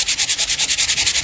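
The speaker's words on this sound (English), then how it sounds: "take your sandpaper again, and when you sand it," Sandpaper rubbed back and forth over cardstock laid on chipboard letters, a quick even rhythm of about a dozen rasping strokes, close and loud, with no voices.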